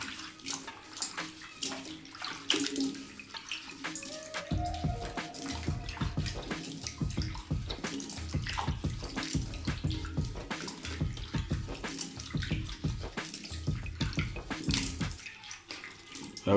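Kakoda vegetables are washed and scrubbed by hand under running water, a continuous splashing stream with rubbing and sloshing, close and fairly loud, with no talking.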